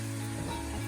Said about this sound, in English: put 2 ice cubes in each one behind the parchment